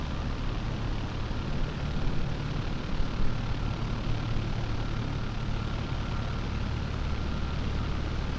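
A Cessna 172 taxiing in Microsoft Flight Simulator 2020, with its aircraft engine giving a steady, unbroken droning hum at even loudness throughout, with no voices.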